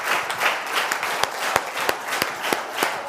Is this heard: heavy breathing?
no